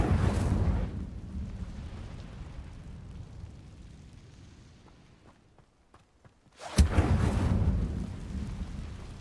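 Incendio fire spell cast in Hogwarts Legacy, a loud roaring whoosh and rumble that fades into quiet with faint clicks, then a second sudden fiery burst erupts and roars on.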